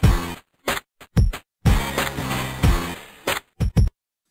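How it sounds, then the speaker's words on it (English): Solo drum track run through an 8-bit bitcrusher effect in Unity: punchy, crunchy kicks and snare hits with gritty, lo-fi aliasing, broken by short silent gaps, loud and alone. "Now let's solo the drums and 8-bitify them."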